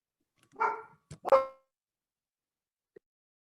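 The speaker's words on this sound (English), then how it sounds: "I tried to say earlier, but my dog's barking." A dog barks two or three times in quick succession at moderate distance, then quiet follows.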